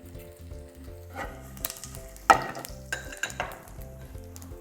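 Asafoetida and mustard seeds crackle and sizzle in hot oil in a pan, a steady frying hiss broken by sharper popping bursts, with soft background music underneath.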